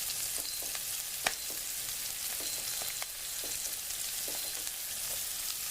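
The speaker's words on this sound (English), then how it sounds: "let it saute for a few minutes and come back" Onions and garlic sauteing in a Ninja Foodi PossibleCooker multi cooker, a steady close sizzle and hiss of frying with scattered soft pops and occasional stirring taps.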